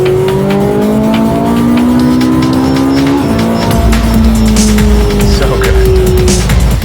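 A Ferrari 458 Italia screams around a racetrack, its loud engine note climbing, dropping sharply at a gear change, then rising again, with bursts of tire squeal near the end.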